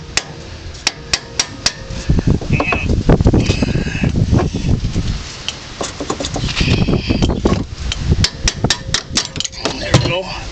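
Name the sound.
hammer whacking a car strut part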